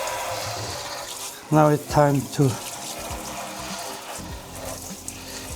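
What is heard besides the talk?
hot water running from tap for cleaning grill parts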